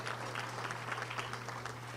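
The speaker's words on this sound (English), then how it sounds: "Let's give her a great round of applause" Steady applause from a crowd at a Little Rock Touchdown Club meeting, clapping densely and evenly throughout, with a low electrical hum underneath.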